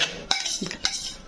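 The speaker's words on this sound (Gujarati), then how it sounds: "આપણે આ સારી રીતે મિક્સ કરી" Batter being stirred and mixed in a bowl for a Jaya Parvati vrat dish, with a few sharp spoon clinks against the bowl over a soft scraping swish, close by.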